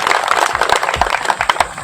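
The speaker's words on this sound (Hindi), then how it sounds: "एक बार मोदी जी के लिए जोरदार ताली बजाएं।" Crowd at a political rally for Modi applauding, a dense burst of loud clapping that runs steadily for a couple of seconds with a faint crowd murmur beneath.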